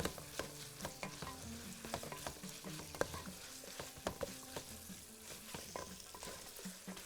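A spoon stirs food frying in a pan for a Bahraini dish, with steady quiet sizzling and many small scraping, clinking strokes throughout and no talking.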